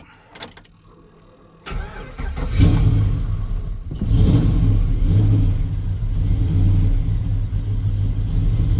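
A Cadillac CTS-V V8 cranks briefly and fires up loud and close, then settles into a deep rumbling idle with a few revs, alone without talk.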